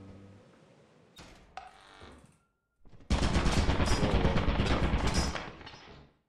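Video game turrets firing: a few scattered shots, then a dense, loud burst of rapid machine-gun fire lasting about two seconds before it cuts off.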